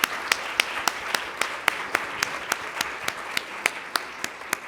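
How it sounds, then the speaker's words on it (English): An audience at a NSW Women's Week celebration gives a round of applause for young women, sounding as a small gathering's fairly sparse, regular claps with distinct individual hand claps standing out over a soft wash of clapping. "and Kushi, could we give these young women who are our future leaders a big round of applause, please?"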